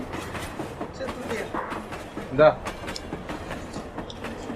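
A train rumbles and clatters steadily from inside a carriage, with faint background voices and a brief louder clunk midway.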